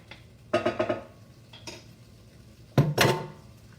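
Garlic added to tomatoes warming in a pan: two bursts of clattering utensil and pan contact, one around half a second and a louder one near three seconds, over a quiet low background without talk.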